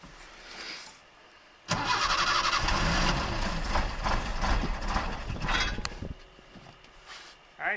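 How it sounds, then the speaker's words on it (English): A 1981 Datsun 210 engine being cranked on the starter, a loud, close, rhythmic churning that runs for several seconds and then cuts off, following a quieter lead-in. "Hit the starter."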